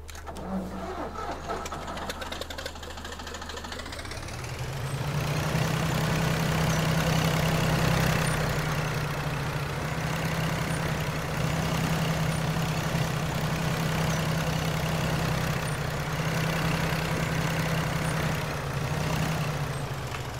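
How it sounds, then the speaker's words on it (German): A 50 hp Deutz tractor engine in Farming Simulator 19 idles quietly, then revs up around five seconds and holds a steady droning run, loud and continuous with no talking. "dass ihr den Motorsound hier auch gehört habt"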